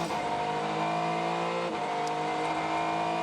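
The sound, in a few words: Meerschaert Racing Acura race car engine at Sebring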